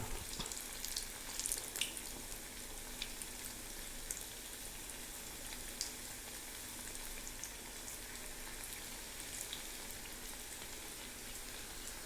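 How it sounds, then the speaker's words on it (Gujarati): Tikdi bhajiya fritters fry in hot oil over a full gas flame, giving a dense, continuous crackling sizzle with scattered sharper pops and no talking. "જો આવા ટીકડી ભજીયા આપણે તરી લઈએ આને ફૂલ ગેસમાં તરવાના છે"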